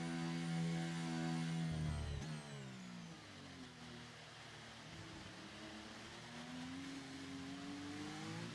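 Race cars lap the Austin circuit in a sim racing league, engines whining with rising and falling pitch as they accelerate and shift, one passing loudly close by before others drone on at a steady distance.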